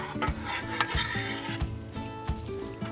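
Macaroni and a few tablespoons of milk are stirred together in a pot, with a spoon scraping and knocking in a repeated rhythm, close and fairly quiet, over a faint background tone.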